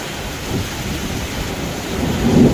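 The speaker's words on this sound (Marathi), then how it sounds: "बघा पाऊस जबरदस्त पाऊस चालू आहे." Heavy, persistent rain pours down with deep rumbling thunder, a dense continuous hiss that swells louder toward the end, with no talking.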